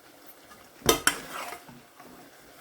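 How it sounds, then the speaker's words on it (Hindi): Semolina poured into a hot pan of fat for makhandi halwa, giving a sudden sharp sizzling hiss in two quick bursts that fade into soft frying crackle and light utensil scraping. "जब आप डालेंगे सूजी बड़ी एहतियात से डालना, एकदम से शर से आवाज़ आती है"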